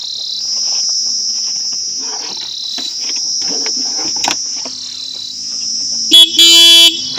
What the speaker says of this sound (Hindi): बैटरी के बोर्ड चेक करने के लिए सिंपल इसका हॉर्न बजा के दिखा देता हूँ मैं आपको।